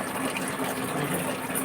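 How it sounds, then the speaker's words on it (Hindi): Tap water runs at a low flow in a home kitchen, a steady, even hiss and trickle that stays close and continuous throughout with no voices. "पानी कम आ रहा है?"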